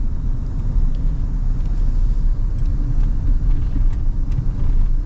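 A Toyota vehicle on the move gives a steady, loud, low engine and road rumble that stays even throughout, close up, with no one talking.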